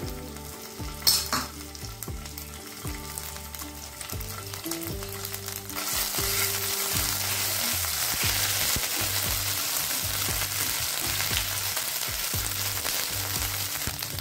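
Whole garam masala and ginger-green chili paste hit a hot pan and break into a loud, steady sizzle that holds for many seconds, with spoon scrapes and a low repeating hum underneath.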